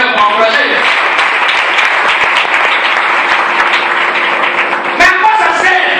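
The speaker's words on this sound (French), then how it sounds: "acclamez le Seigneur pour encourager" A church congregation at a French-language Sunday service breaks into sustained, loud applause and cheering, a dense wash of clapping that fills the room steadily with a brief louder burst near the end.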